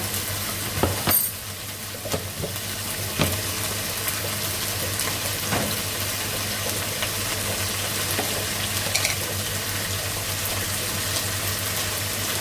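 Garlic and ginger paste sizzles steadily in a hot frying pan, a dense continuous crackle with a few sharper clinks of a spoon stirring against the pan, no voices.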